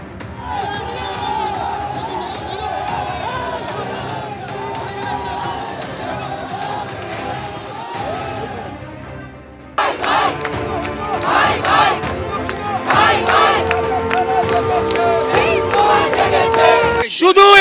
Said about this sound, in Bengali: এই যে আলিপুর আদালতে জামিনের পরই আদালত চত্বরে স্লোগান তোলেন সনাতনীরা